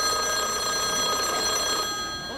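Telephone bell ringing loud and close in an old radio comedy sketch, a steady continuous electric ring lasting a couple of seconds before cutting off.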